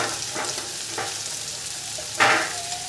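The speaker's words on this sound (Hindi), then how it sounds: "शिमला मिर्च फ्राई हो रहा है" Capsicum frying with onion in a pan, a soft continuous sizzle under a few light spatula scrapes and one louder stirring burst near the end, close and without voices.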